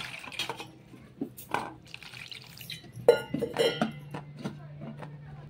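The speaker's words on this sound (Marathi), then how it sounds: "आता वांगे स्वच्छ पाण्याने धुवून" Water splashes and drips in short bursts as eggplants are rinsed, with light clinks of a bowl between the splashes.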